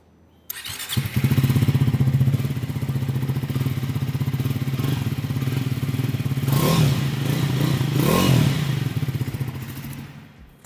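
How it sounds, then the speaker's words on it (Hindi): A Triumph Scrambler 400X motorcycle engine fires up and idles with a deep, steady exhaust burble, briefly revved twice before the note fades out. "तो कुछ इस तरह का एग्जॉस्ट नोट मिलता है विद द Scrambler 400X"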